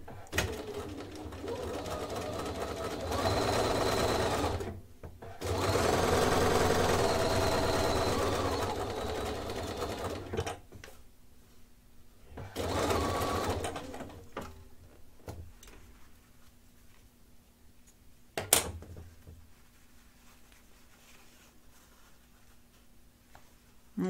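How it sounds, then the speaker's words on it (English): A sewing machine stitches two pieces of fabric together for a holiday table runner, running in two steady bursts of a few seconds each, close and fairly loud, with quiet pauses between them. "So I'm going to sew that as well."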